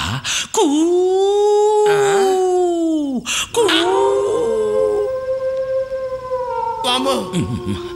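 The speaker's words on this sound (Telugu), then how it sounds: "దూరంగా ఒక నక్క" A jackal howls in long, wavering, rising and falling wails, three drawn-out calls separated by short breaks, loud and clear.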